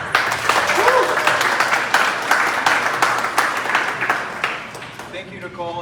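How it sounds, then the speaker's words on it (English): Audience applause at a showroom event unveiling the 2022 Toyota Tundra i-FORCE MAX, a dense, steady wash of clapping that runs throughout and fades slightly at the end, with a voice starting to talk over the last moment. "Let's give him a round of applause."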